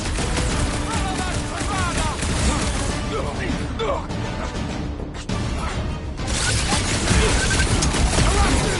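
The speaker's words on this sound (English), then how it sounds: "I'll lay down some cover fire to get you across!" Sustained cover fire from video game guns, a loud, steady barrage of shots and crashing impacts rattling for several seconds beneath shouted character dialogue.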